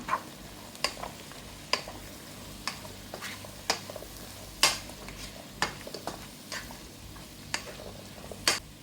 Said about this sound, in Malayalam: ഇനി നമുക്കിതെല്ലാം കൂടെ ഒന്ന് മിക്സ് ചെയ്യാം.